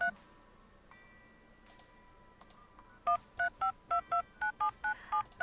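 Phone dialing tones in the horror game The Supper: New Blood: a rapid series of about ten short, evenly spaced beeps in quick rhythm, loud and clear over a quiet ambient background with no talk.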